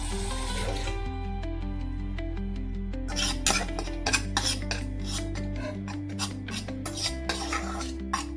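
A spoon clinks and scrapes against a pot as food is stirred after salt is added, in short repeated metallic taps over steady background music.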